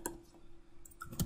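A computer mouse gives a few faint, sharp clicks close up in a quiet room, including a quick pair near the end.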